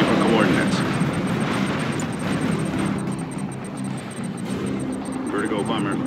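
Vertigo bomber aircraft in Command & Conquer 3: Tiberium Wars, a steady broad jet-engine roar with rumbling low end that holds loud and continuous, with game voice lines spoken over it.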